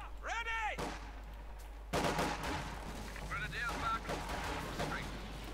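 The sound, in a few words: 120mm mortar artillery firing in Company of Heroes 2 video game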